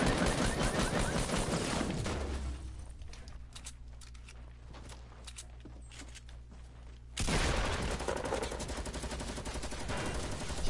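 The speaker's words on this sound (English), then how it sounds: "He's got a fucking LMG" Light machine gun fire in a video game, a dense broadband burst of rapid shots filling the opening two seconds, then quieter rumbling before another loud stretch of sustained fire returns near the end.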